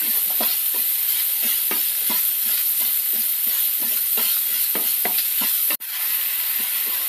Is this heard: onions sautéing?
yes